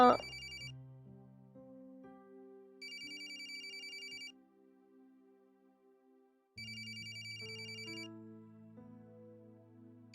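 A mobile phone ringtone plays in two clear bursts, a bright repeating electronic melody over a soft tonal bed, with a pause of near silence between the rings.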